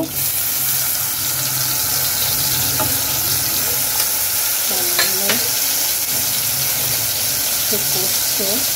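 Green chili paste frying in a pan after paneer, a loud continuous hiss and bubble with occasional stirring scrapes, close up, with brief tonal sounds in the background.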